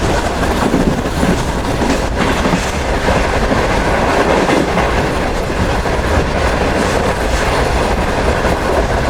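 Shalimar Express passenger train running between Bahawalpur and Karachi, its carriages heard from inside with a constant loud rumble and wheel clatter on the rails throughout, no voices.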